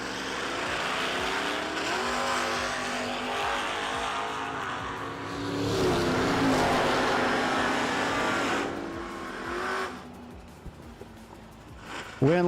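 A Mustang drag racing down the strip at a no-delay drag racing event, its engine roaring loud and sustained with a rising, shifting pitch before fading away, amid crowd and track noise.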